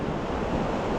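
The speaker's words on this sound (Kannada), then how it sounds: "ಆ ಲೇಕಿಂದ ನೆಕ್ಸ್ಟ್ ಲೇಕಿಗೆ ಹೋಗ್ತಾ ಇದೆ ನೀರು." Water rushes steadily between two lakes along a valley trail, a broad, even roar of flow mixed with wind noise, loud and continuous with no voices.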